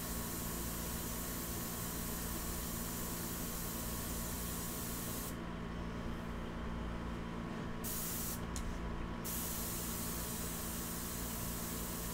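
An airbrush spraying India ink onto paper gives a steady close hiss that runs throughout, with brief pauses where the air cuts off and restarts, no talk.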